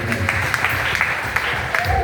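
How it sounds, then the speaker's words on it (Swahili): Church congregation applauding during a worship service, a dense patter of clapping with a preacher's voice running over it. "patia Bwana Yesu makofi"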